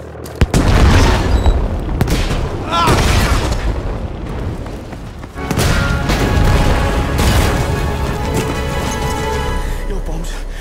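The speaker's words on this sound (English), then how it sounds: "Yeah, that's because my bombs went off." Bombs going off in Battlefield 5 throw out heavy booming blasts and rumbling debris, with crackling gunfire behind them. The sound stays loud and dense throughout, and voices come through over the din.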